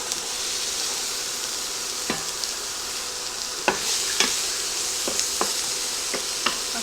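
Chopped onion sizzles steadily in hot cooking oil for a Tex-Mex Frito pie casserole, a constant close hiss broken by occasional sharp clicks and taps of stirring.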